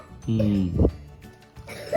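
A person coughs once, a short harsh throaty burst right after a low hummed vocal sound, up close, followed by quiet background talk.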